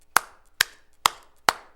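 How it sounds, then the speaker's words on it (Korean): Four sharp, evenly spaced hand claps in a church hymn-singing setting, steady and close, with no singing heard. "그래서 우리가 찬송 부를 때 손뼉 치면서 부르는 거예요"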